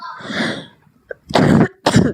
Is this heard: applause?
no